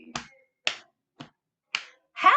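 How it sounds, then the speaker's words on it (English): Hands clap on knees in four crisp, evenly spaced slaps in a quiet room, followed by the start of a voice. "I'm clapping on my knees."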